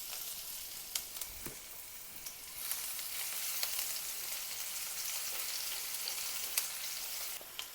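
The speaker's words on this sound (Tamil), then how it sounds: "ரெண்டு கட் பண்ணி இப்படிதான் நல்லா ஃப்ரை பண்ணணும்." Ginger and garlic sizzle steadily in hot oil, a loud continuous hiss with occasional crackles and stirring scrapes, close by and without talk.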